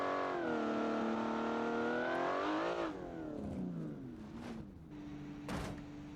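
A Gordini T23S race car engine in the BeamNG driving game revs high and steady, then drops and shifts through lower, wavering tones, with a couple of brief sharp bursts near the end.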